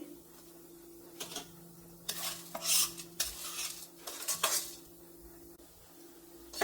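Urad dal and tamarind dry-fry in a pan, with a spoon scraping and clinking against the metal in bursts of stirring over a faint, steady background.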